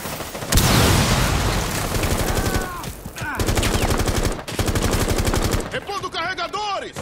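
Rapid automatic gunfire in the tactical shooter Rainbow Six Siege, loud bursts of repeated shots broken by short pauses, with a voice talking over parts of it.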